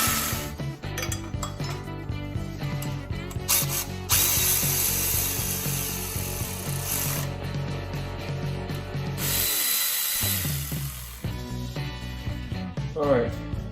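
A ratchet wrench tightens alternator bolts on an engine being rebuilt, with steady, loud clicking strokes and metallic clatter running almost continuously, broken briefly by a pause before the clicking resumes.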